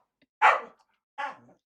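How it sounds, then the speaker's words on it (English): A dog gives two distinct barks, the first louder and the second slightly softer, close by with quiet around them. "Mr. Greasy's telling Joey to bark."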